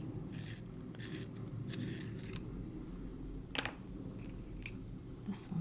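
A colored pencil is worked in a pencil sharpener, giving short, close scraping grinds in uneven bursts separated by pauses, over a low steady background hum.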